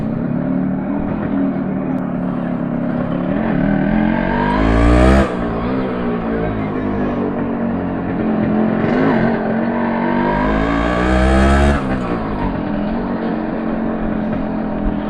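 A two-stroke motorcycle engine idles roughly and then revs hard twice, the pitch climbing and dropping each time, loud and close.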